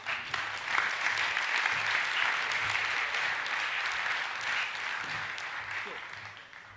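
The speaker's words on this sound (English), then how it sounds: "Can you please make them welcome with a round of applause?" A school awards-night audience gives a sustained round of applause to welcome Torres Strait Islander dancers, a steady wash of many hands clapping that holds evenly and then slowly tapers, heard from a distance.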